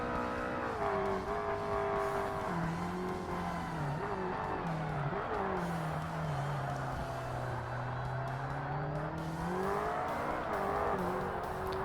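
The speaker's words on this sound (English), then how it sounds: "You can still hear the Enzos in the distance." Ferrari Enzo race cars in the Forza Motorsport video game, a continuous engine drone with shifting pitch as they rev and change gear, mixed with tire noise and heard steadily throughout.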